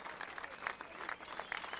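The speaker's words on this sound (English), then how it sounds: "The crowd combusts into one last fiery round of applause as the band exits the stage." Brief burst of video game crowd applause as a band exits the stage, dense clapping at a moderate distance, fairly faint.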